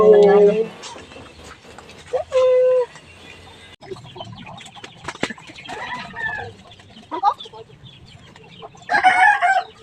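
Chickens cluck and squawk close by at a rural coop in the Philippine province, with a rooster's crow and brief wing flaps among them, while people talk intermittently over the birds.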